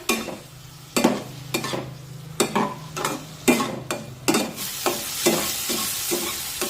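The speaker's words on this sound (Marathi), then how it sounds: "हा टोमॅटो पण छान मऊ होईपर्यंत शिजून घेऊया" Chopped tomato cooking with onions in a pan for sandgyachi bhaji: a soft steady sizzle underneath repeated sharp scraping stirs of a spoon against the pan, close and without talk.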